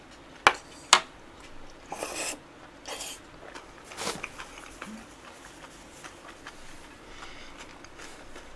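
Someone eating chicken bones from a nurungji baeksuk meal, with a couple of sharp close cracks followed by softer scattered crunching and chewing sounds, no talking.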